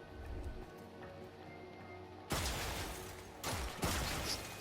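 Turret gunfire from the Void in the video game Warframe, erupting abruptly in loud broadband bursts after a quieter stretch of humming game ambience, with a second burst following about a second later.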